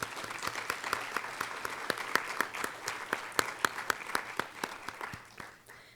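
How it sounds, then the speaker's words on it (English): Scattered applause for quarterfinalists at a law school moot court final round, a small audience clapping with distinct individual claps in an uneven rhythm that gradually thins out. "Please join me in giving the quarterfinalists a round of applause."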